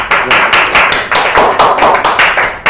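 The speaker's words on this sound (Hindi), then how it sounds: "तालियां" Loud, dense rhythmic clapping from a studio audience fills the space, beating in steady, repeated pulses that run the whole time with no talking on top.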